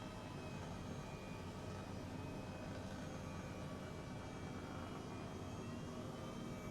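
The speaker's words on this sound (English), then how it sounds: "Start bringing up our rotors." Helicopter rotors spinning up in a flight simulator game beside an aircraft carrier, a steady broadband whirring drone with a faint whine, constant and moderately quiet throughout.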